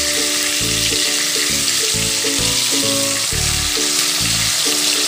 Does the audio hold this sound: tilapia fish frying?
yes